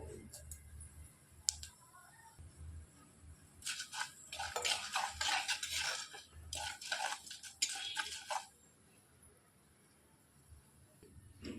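Chana dal, urad dal and cumin roasting in a pan for a curd ivy gourd masala curry: faint dry rustling, then bursts of metal spoon scraping and clinking against the pan midway, with a voice talking quietly in places.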